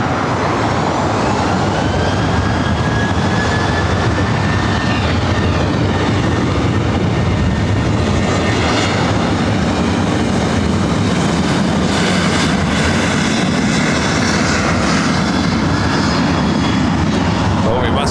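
A Southwest airliner takes off at LAX, a loud continuous jet engine roar with a rising whine running the full length, close and steady throughout.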